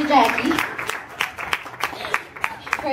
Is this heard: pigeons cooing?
no